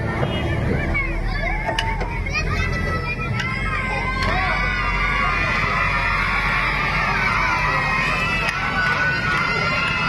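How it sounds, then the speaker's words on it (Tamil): A crowd cheers and shouts loudly and continuously at a silambam stick-fighting performance, with sharp clacks of sticks striking and voices overlapping in a busy, lively din. "உங்களுக்கு ஆரவாரம் அதிகமா இருக்கு"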